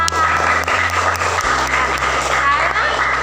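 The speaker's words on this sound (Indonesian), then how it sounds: "Tepuk tangan untuk kelas 5A." Fifth-grade students in an Indonesian classroom clap together in a lively burst of applause, with children's voices mixed in over a steady low hum.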